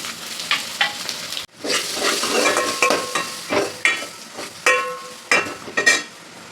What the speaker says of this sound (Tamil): சீரகம், மிளகு போட்டுக்கிறோம்.